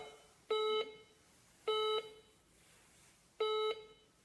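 Three identical electronic beeps from a Chinese copy of a Garrett ACE 250 metal detector, each about a third of a second long, sounding at roughly one-and-a-half-second intervals with quiet in between.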